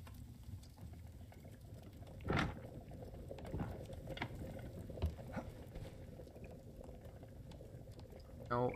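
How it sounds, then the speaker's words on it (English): Water bubbles and boils in the Last Oasis video game, a quiet continuous bubbling with small pops and faint clicks. "Let's get this water cooking."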